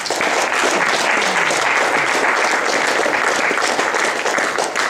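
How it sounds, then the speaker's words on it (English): Audience applause at a motorsports awards gathering, a steady, dense wash of clapping from many hands that holds evenly loud throughout, with no voices over it. "Those folks certainly deserve a round of applause as well."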